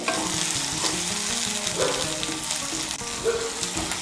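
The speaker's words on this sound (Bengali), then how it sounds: "মিশিয়ে নিয়ে একটু ভেজে নেব।" Ginger and garlic paste fries in oil for masala bhindi, giving a steady, close sizzle with stirring scrapes throughout and no voices.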